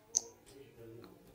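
A single sharp mouse click sounds early on a laptop used to configure a Grandstream GXW4500 series gateway, followed by faint quiet room tone.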